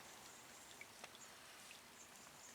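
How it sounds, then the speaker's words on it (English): Steady rain falling at a fishing lake, a soft even hiss with scattered individual drops ticking close by, faint and continuous with no voices. "Still raining,"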